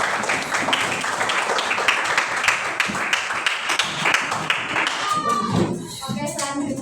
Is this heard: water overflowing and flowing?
no